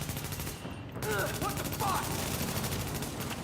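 A deployed automatic turret in a shooter game fires rapid, evenly spaced shots that run steadily through the whole moment, with a few faint electronic chirps over the gunfire.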